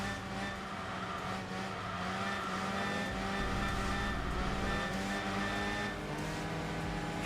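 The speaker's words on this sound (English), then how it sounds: "That VQ engine does have some pretty solid power." A Nissan VQ V6 engine powers a car racing in Enthusia Professional Racing, a steady loud engine drone with shifting revs and occasional tire noise running throughout, no talk over it.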